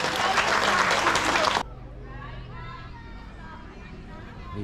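Loud audience applause at an outdoor falconry display, a dense burst of clapping and crowd noise that stops abruptly after about a second and a half, leaving quieter murmuring outdoor ambience with distant chatter.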